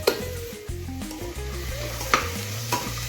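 Peas and spices sizzle in hot oil for Maharashtrian matar rice while a spoon stirs and scrapes the pan, close and steady with a few sharp knocks.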